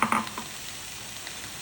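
Chopped onions fried golden brown with tomato added, sizzling steadily in a pan; a couple of sharp clinks at the start, then an even, moderately loud hiss throughout.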